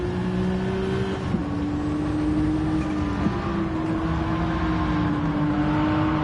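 Steady simulated car engine drone from Gran Turismo 7 racing, the pitch holding level with small shifts and dips as the car runs through corners, continuous and close throughout.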